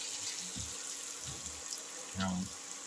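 Water is poured into a cooking pan holding green chili and potato for a cumin egg potato roast, a short splashy pour near the end following softer stirring sounds, fairly quiet and close.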